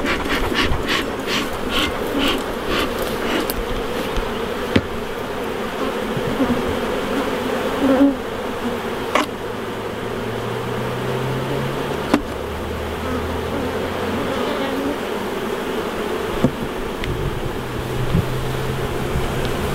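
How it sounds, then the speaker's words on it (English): Honey bees swarm around an opened hive during an inspection, a continuous close buzzing with individual bees droning past, and a few soft knocks and handling sounds along the way. "Now I understand why there's so many bees in the top box."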